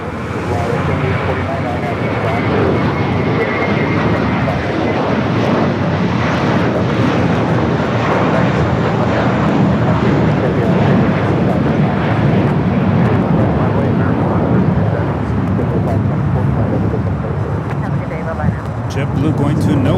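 A nine-year-old Airbus A321 jet roars steadily at Los Angeles International Airport, a loud, sustained engine rumble with wind noise that lasts throughout.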